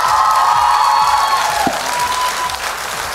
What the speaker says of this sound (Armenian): ժողովուրդ, այս ծափարությունները սենց վերցրեք ձեզ հետ